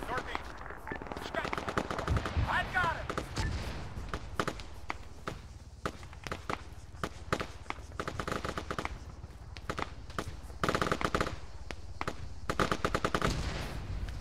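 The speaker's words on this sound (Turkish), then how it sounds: "Adam sıkıyorlar, çok uzak bunlar ya." Distant gunfire in ARMA 3, far-off machine-gun bursts and scattered single shots crackling steadily through the whole stretch, with a voice talking partway through.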